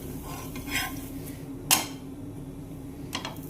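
A jowar roti is flipped on a hot pan, giving a few brief metallic scrapes and clinks of a utensil against the pan, separated by quiet gaps over a low steady hum.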